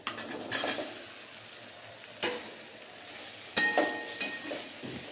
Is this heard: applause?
no